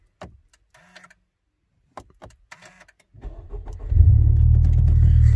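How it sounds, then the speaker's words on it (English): A Honda Civic Type R starts up: a few quiet clicks and taps come first, then the engine cranks and catches into a loud, steady, close idle rumble. "Let me start up the car real quick."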